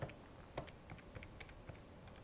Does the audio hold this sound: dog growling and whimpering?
no